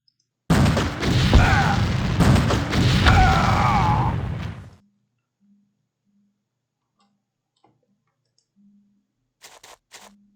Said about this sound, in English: in this game, ammo hit with explosions